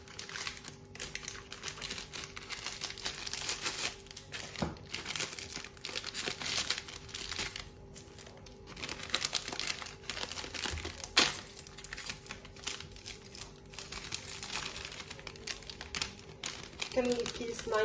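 A nylon plastic bag crinkles steadily while Kinder chocolate is handled for homemade Kinder ice cream, a close, continuous rustle with scattered sharper crackles throughout.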